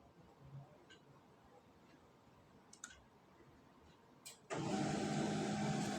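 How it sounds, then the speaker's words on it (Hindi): A printer running a test page in a local area network office, starting after a few quiet clicks with a sudden steady mechanical whir and rumble that holds loud and close to the end. "ये जो है आपका प्रिंटर ऑटोमेटिकली प्रिंट करके दे देगा"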